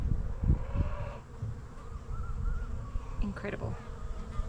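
Honey bees buzz in a continuous, fairly quiet drone during a hive inspection, with brief rustling and a short spoken remark partway through.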